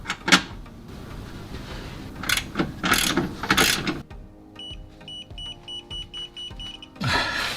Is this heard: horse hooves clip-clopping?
no